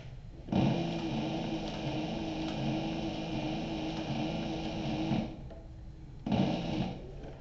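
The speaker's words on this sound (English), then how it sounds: "My spool of thread that I have on this machine tends to hang up sometimes" A sewing machine stitches a slim line belt bag, also called a fanny pack, with a steady, close motor whir for about five seconds. It pauses briefly, then starts again for a short burst.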